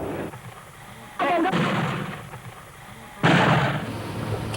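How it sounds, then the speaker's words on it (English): Heavy gunfire booms out in two separate bursts, each followed by a rough rumbling tail over a low, murky background. "There's only the silent fog punctuated by the heavy sounds of bullets."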